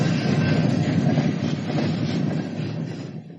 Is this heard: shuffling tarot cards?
no